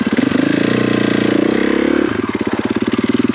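A KTM 500 EXC-F dirt bike engine running close by, a loud steady single-cylinder thump that shifts to a slightly lower, choppier idle partway through.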